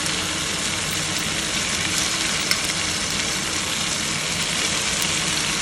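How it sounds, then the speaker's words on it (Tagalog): Salmon frying in a hot pan for sinigang, a steady, even sizzle and crackle that holds at a constant level with no voices. "iprito natin ng konti yung salmon"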